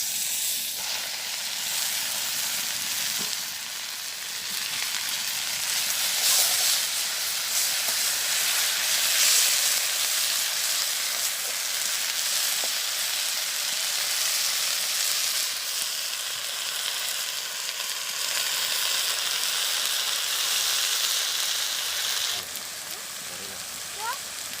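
Jute leaves with garlic, radhuni and green chilli sizzle in a kadai in a village kitchen, a steady hissing fry that carries on at an even level and softens near the end.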